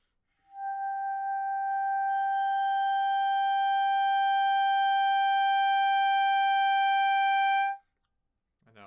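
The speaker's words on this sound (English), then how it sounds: "So I'm going to start soft and get loud." A clarinet holds a single long tone, entering quietly and swelling steadily louder for about seven seconds before stopping cleanly, followed by a moment of silence.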